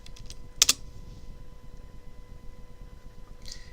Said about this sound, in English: I'm going to go to the address box and type uniprot.org